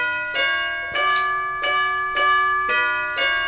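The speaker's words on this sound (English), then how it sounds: "And then I think I got the piccolo and then the tubular bells" Piccolo and tubular bells in a trap beat made in FL Studio ring out together in a steady pattern of bright pitched hits, about six evenly spaced strikes with sustained tones between them, loud and alone with no voices.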